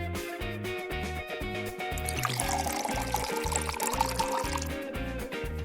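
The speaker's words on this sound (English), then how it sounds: "Pour lemonade into balloons." Lemonade is poured through a funnel into balloons, a soft trickling and dribbling of liquid set against a steady, rhythmic backing music track, fairly quiet overall.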